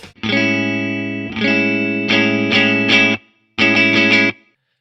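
Clean electric guitar chords ring out in several strums, each sustained before stopping, with a short gap before the final chord.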